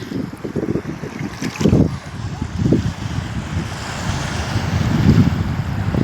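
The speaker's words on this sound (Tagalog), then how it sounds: "Matindi yung alon natin." Loud wind buffets the microphone while strong ocean waves slosh and surge around a fishing boat, with rough gusts and churning water rising and falling throughout.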